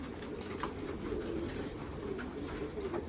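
Old-lineage Jamuni pigeons coo softly in a continuous low burble, several birds overlapping at a modest distance, with no talking.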